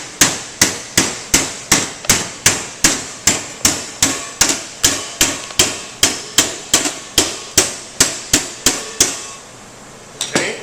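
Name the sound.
hammer bending over the ends of a sheet-metal S-cleat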